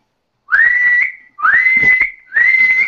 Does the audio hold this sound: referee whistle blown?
yes